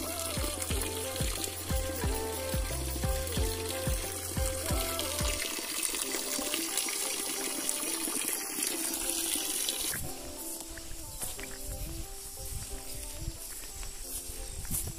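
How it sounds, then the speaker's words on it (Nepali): Water pours from a village spring spout in a continuous stream that splashes steadily. A rhythmic music-like pattern plays over it at first and then fades, and the flow continues alone after that. "तपाईँहरूलाई चाहिँ म धारो देखाउनु गइरहेछु"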